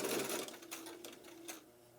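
A sewing machine stitches a fabric face mask in short, close bursts of rapid mechanical chatter that pause and restart as the work is turned.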